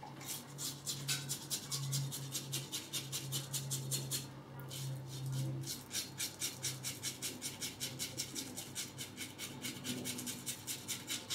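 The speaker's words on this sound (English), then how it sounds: "Despite being a relatively cheap razor, it still makes some good noise." Close, rapid rasping strokes scrape rhythmically over a faint steady hum, pausing briefly partway through before resuming.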